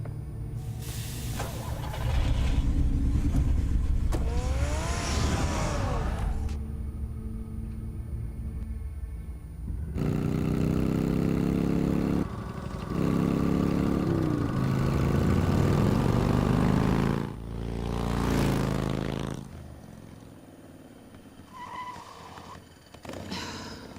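Batmobile engine in Batman: The Telltale Series, a low rumbling drone that swells and fades in long stretches, mixed with game music and whooshes, with no voices.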